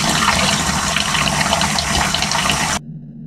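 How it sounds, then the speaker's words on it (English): Water gushing steadily into a drain in the horror video game Deadly Night, a loud, close, continuous rushing flow that cuts off abruptly near the end. "The water is already flowing, but it goes down the drain"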